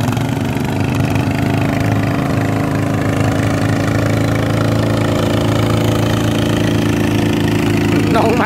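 A brand-new Kubota ZT155 engine drives a walking tractor through a rice paddy on its first run, its loud, steady, close-up chugging drone continuing without a break while a voice talks over it.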